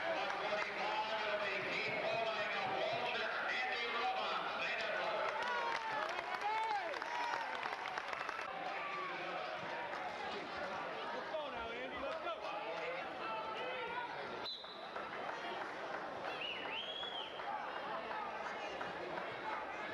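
Large crowd at a wrestling match cheering and applauding continuously throughout, a dense roar of clapping and voices holding steady at close range with no break.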